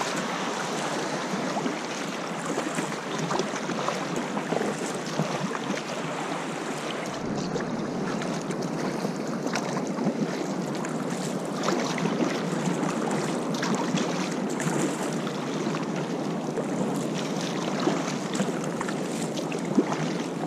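Sea waves and surf wash steadily around a kayak off the Basse-Côte-Nord coast, a continuous broad hiss with wind noise and soft water movement, fairly close.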